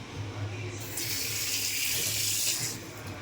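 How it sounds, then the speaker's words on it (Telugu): Chicken pieces are rinsed under a running kitchen tap, a loud continuous stream of water splashing into the sink with a brighter gush midway as the flow hits the meat. "ముందు మనం ఈ చికెన్ని ఒక 2 to 3 టైమ్స్ మొత్తం ఫ్రెష్గా కడుక్కుందాం."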